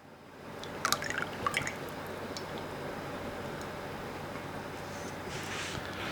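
Slightly melted butter poured into a bowl of eggs and whole milk, a few soft close drips and splats early on, then a faint steady liquid background with no talking.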